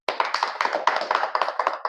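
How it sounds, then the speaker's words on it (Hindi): A small audience claps in applause for a woman presenter at a network-marketing meeting, a steady patter of hand claps lasting about two seconds with no talking over it. "मैम के लिए तालियां।"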